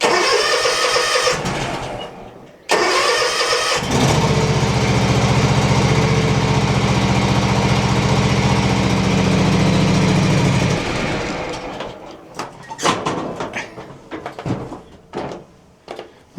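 A small engine from a 25-year-old machine in a garden shed cranks and catches at about 4 seconds, then runs at a loud, steady idle for several seconds before sputtering and dying as if out of fuel, leaving scattered knocks and handling noises.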